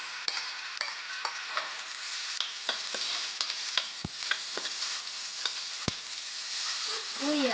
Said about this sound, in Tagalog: Lagay lang tayo ulit ng mantika. Isa tayo ulit ng bawang at sibuyas.